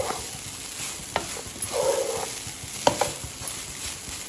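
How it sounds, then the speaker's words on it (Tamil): Idiyappam dough is stirred in a pan with a spatula, giving soft scraping strokes and a few sharp taps over a faint low sizzle, nearby and fairly quiet, with no voices. "வீடியோவில் பார்க்குற மாதிரி நல்லா இந்த மாதிரி கிண்டிக்கோங்க, அப்போ தான் உங்களுக்கு சாஃப்ட்னஸ் கிடைக்கும்."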